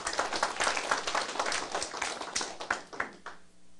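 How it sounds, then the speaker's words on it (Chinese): A lecture audience claps their hands in a brisk burst of applause, individual claps audible within the mix, fading out after a few seconds. "你们拍手嘛。"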